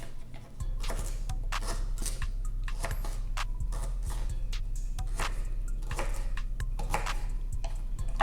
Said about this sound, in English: I'm gonna just chop it into a couple pieces.